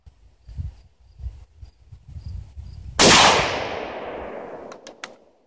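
A single sharp rifle shot from a Baikal IZH-18 single-shot rifle chambered in .223 cracks loudly outdoors, followed by a long decaying echo rolling away, with faint distant impact ticks near the end.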